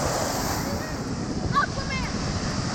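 Ocean waves wash onto a beach in Puerto Rico as a continuous, close surf roar with steady wind buffeting the microphone. A faint voice-like chirp is heard briefly partway through.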